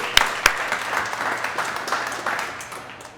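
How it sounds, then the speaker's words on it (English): An audience applauds restaurant workers at a One Fair Wage press event in Cleveland. A couple of sharp claps open it, then a steady wash of clapping continues for a few seconds at moderate distance. "Let's give a round of applause for the workers who are here."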